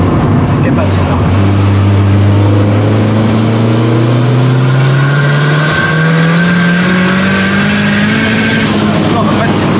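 A MaxxECU-tuned car revs hard with wheelspin, the engine note climbing steadily as tyres slip, loud and close, with people talking over it.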